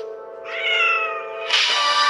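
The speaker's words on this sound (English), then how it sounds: "I can't rescue my cat. He's stuck under the stairs." A cat trapped under the stairs gives a loud, close, drawn-out meow that rises into a second, higher, strained cry, heard alone.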